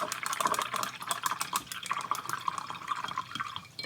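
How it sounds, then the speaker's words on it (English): A paintbrush loaded with gouache paint being rinsed and swished in water, close splashy dripping and trickling that continues throughout, no talking. "So I'm just going to wash it off really good."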